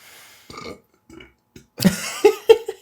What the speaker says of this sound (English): It started again, the burps.